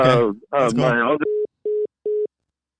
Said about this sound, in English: your call dropped out